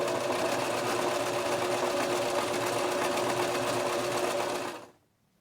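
Sewing machine running steadily as it stitches an appliqué heart onto fabric, a loud, continuous motor whir that holds for nearly five seconds, then stops abruptly into silence.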